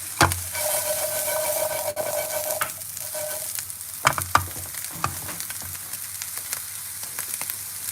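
Chickpea chips frying and browning in a pan give a steady sizzle, broken by a few louder stirring scrapes and knocks.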